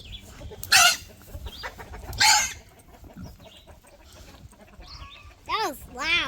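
Loud farm animal calls, chickens clucking and squawking and a goat bleating, with two sharp bursts early and repeated bleats near the end, mixed with nearby talk.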